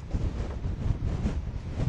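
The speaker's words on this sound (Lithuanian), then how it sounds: "Vėjas nerealus." Strong wind buffets the microphone in heavy, uneven low rumbling gusts, loud and close, with no talking, near wind-driven waves in Agde, France.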